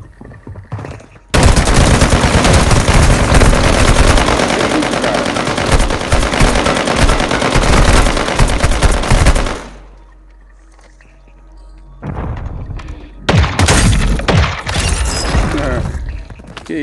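Sustained, loud automatic gunfire bursts from the video game Warzone Mobile, a long continuous stream followed by a short pause and more rapid shots, with little talk over it.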